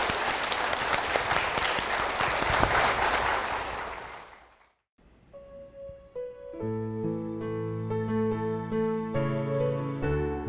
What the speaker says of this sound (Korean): 우리 권사님을 위해서, 우리 따님을 위해서, 이 가정을 위해서 축복의 박수 부탁드리겠습니다